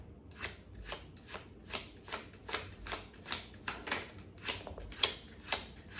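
Tarot cards being shuffled by hand, a steady series of crisp riffling bursts about twice a second, close and clear against a quiet room.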